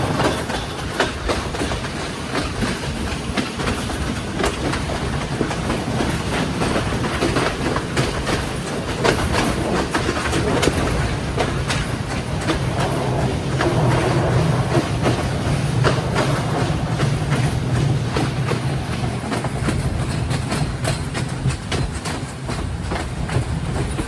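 A night mail train on the Ella to Badulla line in Sri Lanka rumbles steadily throughout, with a continuous loud roar of wheels on rails and clickety-clack beats, near and unbroken, no voices.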